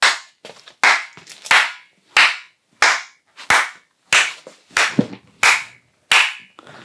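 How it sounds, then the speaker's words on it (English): Single sharp hand claps, about ten spaced evenly, each followed by a fluttering, bouncing echo between hard ceiling and floor in an empty new studio room, with quiet gaps between claps. "if you clap, you hear mostly the hallway"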